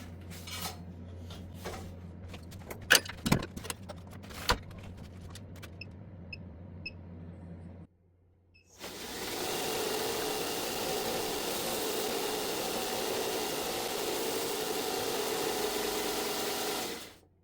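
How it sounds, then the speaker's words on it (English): Wooden handles for measuring cups and spoons are squared on a belt sander: scattered knocks and clicks, a brief pause, then a steady, loud abrasive hiss that runs unbroken to the end. "Next step is to change over from lathe to belt sander and square the ends of these handles"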